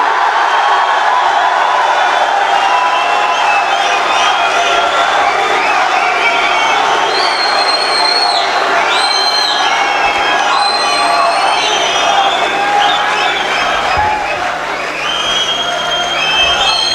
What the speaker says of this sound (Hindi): भरपूर तालियों में इस्तकबाल कीजिएगा